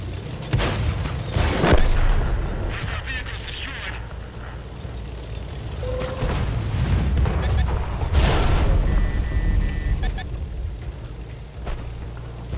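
Artillery shells landing in World of Tanks, several heavy booms spread through a rumbling battle soundscape, with a loud strike near the end and someone talking over parts of it.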